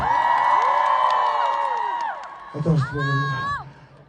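A large concert crowd cheers and whoops loudly, with shouts and a swell of applause rising near the end.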